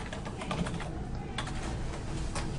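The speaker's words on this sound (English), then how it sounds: "type the name of the student in the database" Keystrokes on a computer keyboard as a student's name is entered into a database, a steady run of close, crisp clicks over a low background hum, with no talk.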